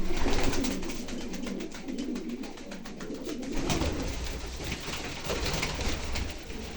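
Pigeons in a loft coo repeatedly at close range, soft throaty calls overlapping against a rustling background.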